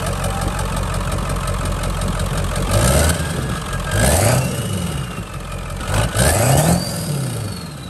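A loud, unmuffled Ford 7.3L Powerstroke diesel truck engine, run with no exhaust, idles with a harsh rattle, then revs sharply three times, each burst rising and falling back to idle.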